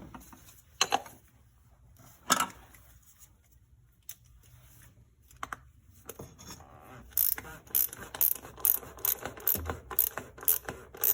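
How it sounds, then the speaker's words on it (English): A ratchet tool tightens the oil filter housing of a BMW 535i during an oil change: scattered clicks and clunks at first, then a fast run of sharp close ratchet clicks. "we're just gonna tighten it back. We're gonna use our tool."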